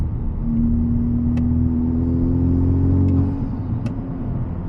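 A Honda car with torque steer accelerates on the gas, its engine droning in a steady low rise for a few seconds before easing off, heard from inside the cabin with faint clicks.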